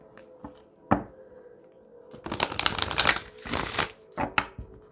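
A deck of cards being shuffled close by: a few soft taps and snaps, then two dense riffling bursts followed by light card taps on a table.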